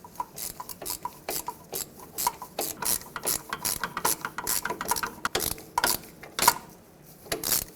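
A hand ratchet clicks in quick repeated bursts of strokes, close up, as it tightens a power steering pressure line fitting on a 2009-2014 Ford F-150, with short pauses between the rasping runs.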